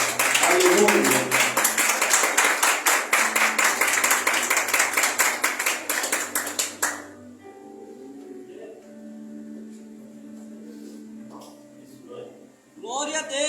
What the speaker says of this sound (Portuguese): recebam com aplausos bem fortes para o nosso Deus